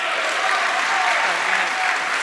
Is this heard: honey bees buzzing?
no